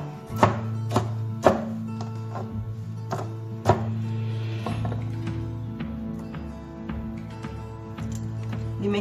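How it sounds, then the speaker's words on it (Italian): Knife chopping boiled green beans into roughly one-centimetre pieces on a cutting board, a handful of sharp separate thunks early on over a steady low hum, then quieter faint cutting. "Prendiamo i fagiolini lessati e li tagliamo avere una misura di circa 1 cm."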